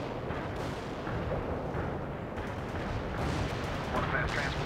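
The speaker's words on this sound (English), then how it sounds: "Artillery barrage in for full effect." Artillery barrage in the video game World in Conflict: a dense, continuous rumble of distant shell impacts and booms rolling on without pause, with faint radio chatter mixed beneath.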